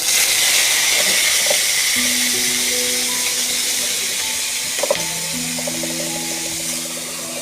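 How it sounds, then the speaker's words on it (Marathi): Green chillies frying in hot oil in a kadhai over a low flame, giving a steady broadband hiss and sizzle that stays loud and even throughout, with faint tonal background hums and a small clink near the end. "तेल चांगलं गरम झालंय. आता मी मिरच्या टाकते त्यात."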